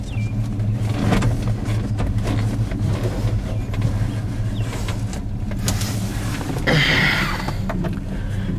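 A 1972 Chevelle SS engine rumbles steadily at close range while the car pulls away, with a brief whirring and rattling burst late on.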